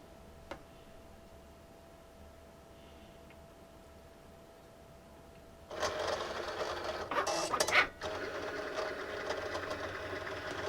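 A Cricut cutting machine starts up after a quiet pause and cuts a vinyl design with a buzzing, whirring carriage sound and brief louder mechanical bursts, all close by.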